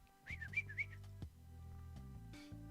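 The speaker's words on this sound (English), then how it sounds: "give it a little whistle." A person whistles to call a puppy indoors, giving a few short, rising and falling whistle notes that stand out clearly over a steady low hum.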